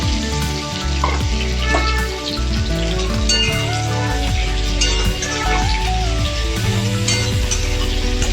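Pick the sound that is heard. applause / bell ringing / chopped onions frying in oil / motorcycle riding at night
chopped onions frying in oil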